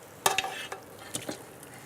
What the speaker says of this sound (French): je vais renverser tout ce qui est dans le plat dans la casserole. Je mets tout à cuire